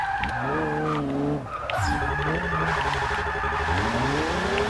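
Honda S2000 drift build in Forza 6 sliding with sustained tire squeal over a revving engine, the screech rising and falling as the car drifts, loud and continuous with a brief dip midway.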